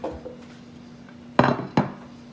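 Carrots dropped into a metal roasting pan holding stuffed Cornish game hens, two sharp clattering knocks close by after a quiet stretch.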